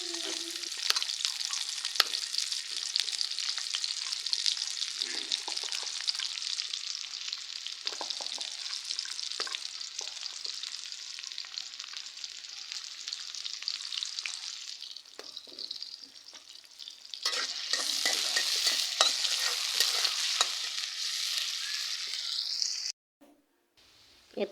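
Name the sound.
chopped onions frying in oil for baghar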